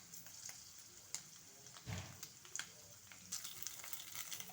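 Chana dal, peanuts and dried red chillies crackle in hot oil for a tempering, a soft steady sizzle with a few sharper pops and stirring clinks, close but fairly quiet.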